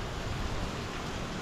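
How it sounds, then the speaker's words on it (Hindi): Very heavy rainfall pours down as a dense, uniform roar of water that fills the short stretch at a steady level, with no talk over it. "हेवी रेनफॉल, बहुत तेज़ बारिश हो रही है"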